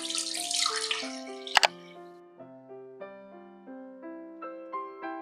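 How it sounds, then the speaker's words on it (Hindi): Milk pours into a pan for a chocolate custard dessert, a short splashing gush at the start that quickly gives way to gentle background music. "पैन में डालेंगे दूध"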